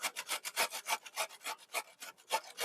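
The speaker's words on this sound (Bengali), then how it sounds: "এইভাবে সব কটা মূলো ঘষে নেব" A radish is rubbed by hand against a grater in quick, rhythmic rasping strokes, about a dozen short scraping bursts close up with no talking.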